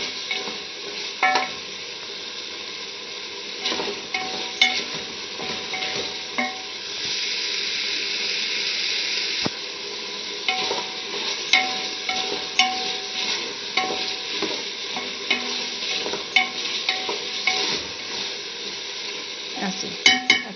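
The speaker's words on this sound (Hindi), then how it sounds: "अच्छे से मिक्स कर दें और थोड़ी इसको अच्छे से भून लें।" Chana dal and pumpkin are stirred and roasted in a pan, giving a steady sizzle with repeated scraping strokes of a spoon, close and with no talking.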